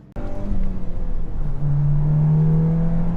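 An eighth-generation Volkswagen Golf R accelerates hard during a night drive, its engine rising from a low rumble into a strong, steadily climbing drone heard from inside the car.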